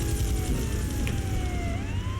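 A police car siren from the Grand Theft Auto III video game, set in Liberty City, wails with a steady, continuous tone over a rumbling game background.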